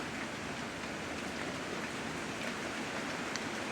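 Rain from a dark afternoon thunderstorm falls in a steady, dense hiss, continuous and even with no pauses.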